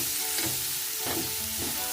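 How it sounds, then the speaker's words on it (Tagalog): Tomato, onion and garlic being stirred and mashed together with pork in a hot pan for Filipino ginisang monggo, with a steady close sizzle and repeated scraping stir strokes at a roughly even rhythm. "I-mix natin mabuti at durugin natin ang ating kamatis, sibuyas at bawang kasama ng pork."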